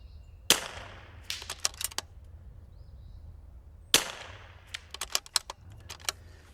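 Two sharp .22LR precision rimfire rifle shots, seconds apart, each followed by faint metallic clicks and rattles of bolt handling.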